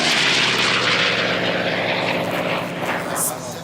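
Unlimited-class racing airplanes roar past on the course at the 2018 Reno Air Races, two racers dueling for second place, giving a loud, sustained piston-engine drone that slowly swells and fades.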